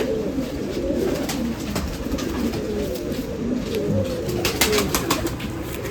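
Steady, overlapping cooing of several pigeons, including a blue pigeon, nearby at a pigeon festival in Nashik, India, a continuous low warbling murmur with faint outdoor noise.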